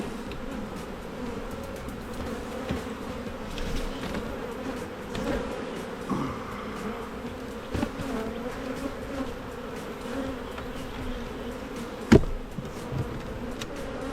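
Honeybees buzzing around an open hive during a spring inspection, a steady droning hum close by, with a faint knock near the end.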